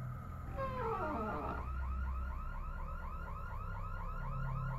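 A car alarm blares continuously after a brief rising sweep, cycling through repeated warbling whoops at a steady fast rhythm, loud and close, over a low rumbling background with no talk.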